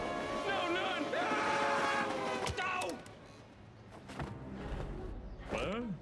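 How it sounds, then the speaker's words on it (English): A ghost train rushes past in the LEGO Dimensions video game, rumbling with a wailing horn-like tone and eerie creaks, while a voice talks over the noise. "Ah, a ghost train! And so little time to get out of the way."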